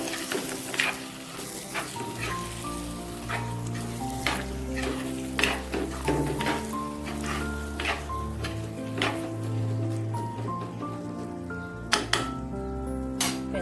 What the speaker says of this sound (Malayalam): ഇത് നന്നായിട്ട് നമുക്കൊന്ന് ഇളക്കി കൊടുക്കാം.